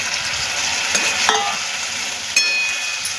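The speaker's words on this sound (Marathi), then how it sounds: "ते व्यवस्थित परतून घ्यायचे।" Fried cabbage manchurian being stirred into boiling gravy in a pan, a steady close sizzle and bubbling with a few scraping clinks of a spoon.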